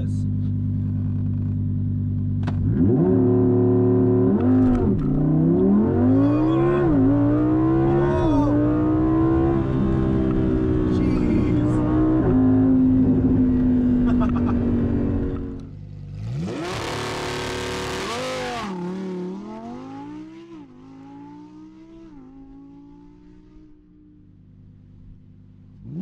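A 2020 Lamborghini Huracan EVO Spyder revs hard in a launch-control start on Ortega Highway, its loud engine climbing through repeated gear pulls, then a burst of wind roar and a fading drive.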